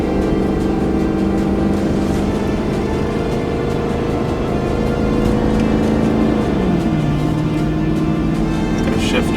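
2020 Ford Super Duty truck towing a heavy trailer slows under engine braking, a loud steady diesel drone with a clear downshift drop in pitch partway through, people talking over the cabin noise.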